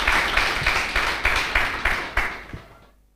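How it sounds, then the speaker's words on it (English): Audience applause at a university business symposium, a dense burst of clapping with a rhythmic surge pattern lasting about three seconds before cutting off abruptly into silence. "Another round of applause as he walks back to his seat."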